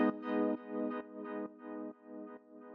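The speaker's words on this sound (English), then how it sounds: "You can see I've got this echo doing dotted eighth notes." A sustained, harmonically rich synth tone for atmospheric techno, run through a long dotted-eighth-note echo, repeats in evenly spaced pulses that gradually soften, with no voices.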